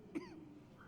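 A single short cough from a character in the ghost-detective video game Murdered: Soul Suspect, fairly close and brief, followed by quiet room tone.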